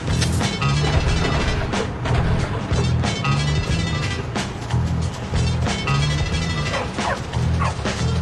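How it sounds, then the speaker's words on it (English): Dog barking in the video game Bully: Scholarship Edition, repeated bursts of loud barks and yips in a steady rhythm over dense game sound, with a crash mixed in. "this mother freaking dog"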